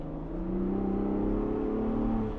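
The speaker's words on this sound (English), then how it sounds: "the sound of that EcoBoost V6, I think 414 horsepower, 440 pound-feet of torque" A 2024 Ford Bronco Raptor's EcoBoost V6 revs in a steady, loud drone that rises and holds for a couple of seconds, close by and with no talk over it.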